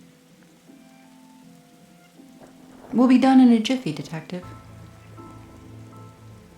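Rain drums steadily on a leaky car in a video game, a soft continuous patter that runs beneath a low musical drone, with a speaking voice breaking in briefly midway.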